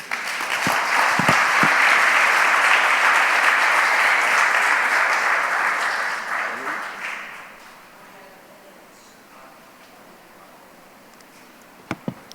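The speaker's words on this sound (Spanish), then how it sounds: "Denle un aplauso a Jesús." A church congregation bursts into loud, sustained applause at a worship service, steady for about seven seconds before fading to a quiet murmur, with a couple of sharp claps at the end.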